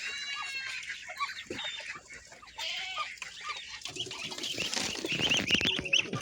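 Newly hatched ducklings, including black-and-white ones, and chicks peep in a dense, continuous chorus of high, close chirps with occasional flutters and shuffling, with no talk.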